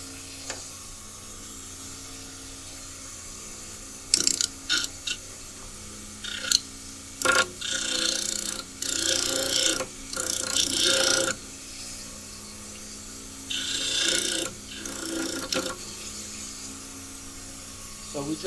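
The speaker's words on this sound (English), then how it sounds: "In this case, we'll use the model trimmer." A dental model trimmer grinds a plaster model in repeated loud rasping bursts of a few seconds each, separated by pauses over a low steady motor hum.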